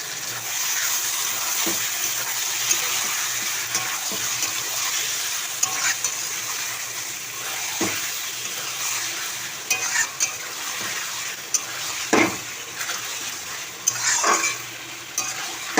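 Washed Bombay duck fish cooks in a wok, a continuous close sizzle broken by repeated scraping and stirring knocks and watery splashes, no voices.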